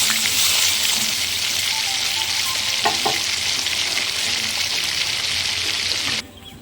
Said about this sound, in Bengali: নিয়ে এর মধ্যে আমি মশলাটাকে একটু কষিয়ে নেব